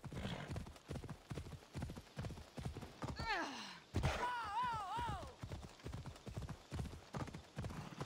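A horse's hooves clip-clop at a steady gallop in Assassin's Creed Odyssey, with rhythmic thuds throughout and a horse whinnying midway, loud and close.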